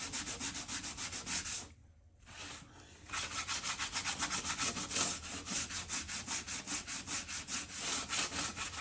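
A stiff scrubber brush rubs paint across a canvas in the studio, giving fast rhythmic scratchy strokes that keep up steadily apart from a short pause near the start. The sound is close and dry, with no talking.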